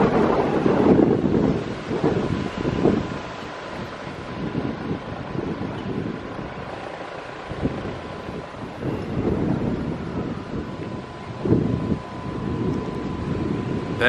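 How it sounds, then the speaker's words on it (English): Strong gusting wind on a stormy day buffets an outdoor microphone despite a wind muff, a loud continuous rumble that swells and eases in gusts, with no clear voice over it. "As bad as it's blowing, I doubt my wind muff will help."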